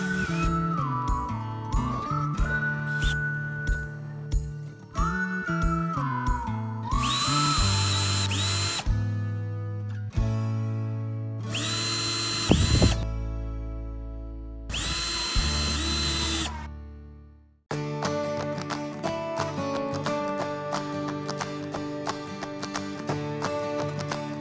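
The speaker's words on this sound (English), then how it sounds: "we can use a bigger drill to make bigger holes for the heads" A power drill bores wider holes in wood for screw heads, its whine rising and falling through several runs, with loud bursts as the bit cuts, up close with no talk.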